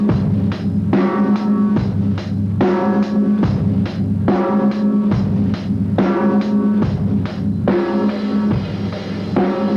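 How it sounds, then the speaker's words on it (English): A full drum kit plays a steady, heavy rock beat with hard kick and snare hits in a driving, repeating pattern, loud and close. "That's the basic heavy hard rock groove."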